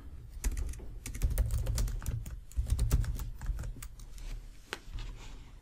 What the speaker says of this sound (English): Let's go ahead and type in a quick sentence.